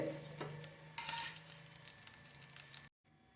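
Fish pieces fry quietly in a pan of oil for a fish curry, giving a soft, continuous sizzle with small crackles. The sound cuts off abruptly near the end.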